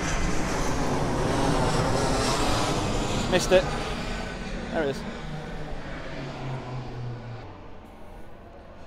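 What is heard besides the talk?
airplane flying overhead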